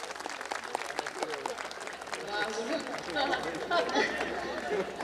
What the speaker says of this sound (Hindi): एक बार जोरदार ताली अपने लिए बजाइए आप लोग।